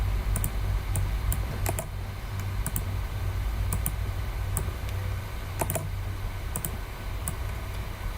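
Someone types on a computer keyboard with light, scattered key clicks in small irregular bursts over a low steady hum, with no talking.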